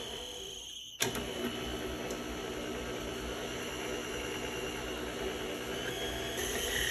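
An electric hand mixer starts abruptly and runs steadily, creaming room-temperature butter with powdered sugar in a bowl for a Yule log cake, a loud continuous motor whir with a dense mechanical rattle and no talking.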